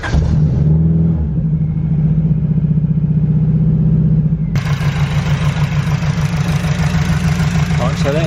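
A car engine idling roughly with one fuel injector unplugged, a loud, close, pulsing uneven rumble that shifts in tone partway through, with a voice talking over it.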